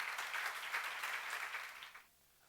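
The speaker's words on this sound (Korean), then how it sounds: "빨리 박수." Seminar audience at a church-related lecture breaks into brief applause, a dense wash of clapping heard from some distance that stops abruptly after about two seconds.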